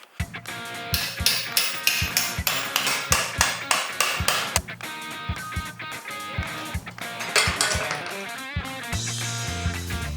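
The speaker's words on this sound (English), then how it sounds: "We're just rebending stuff here on the anvil on the corner." A steel front axle bracket from a Cherokee is hammered on an anvil, sharp ringing metallic blows landing in a steady rhythm of about two per second, close and loud with no talk.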